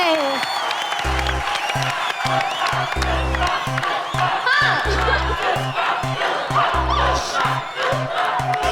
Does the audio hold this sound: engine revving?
no